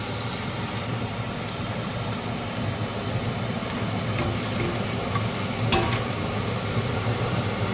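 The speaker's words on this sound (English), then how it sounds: "Time for a bit of a fry up. It's browning quite nicely." Cantonese turnip daikon savoury cake frying in a pan gives a steady, close crackling sizzle throughout, with small pops and a brief louder spatter toward the end.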